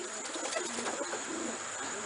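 Homing pigeons, including a young black bird, coo softly in their loft, low murmuring calls half buried in a steady wash of background noise.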